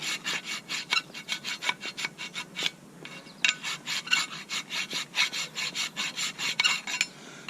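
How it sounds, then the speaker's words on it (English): A metal file rasps in quick, rhythmic back-and-forth strokes, cleaning the pad slots of a Buick LeSabre brake caliper bracket, with a brief pause partway through before the close scraping strokes start again. "They do have files made for this. You can look up brake file, and it fits perfectly in the slots."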